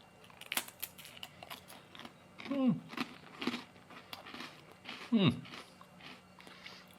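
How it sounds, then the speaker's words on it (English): Crisp Marias biscuits crunched between the teeth in a few distinct bites, close and fairly quiet, with soft chewing and handling noises between them. "Very nice crunchiness to these biscuits"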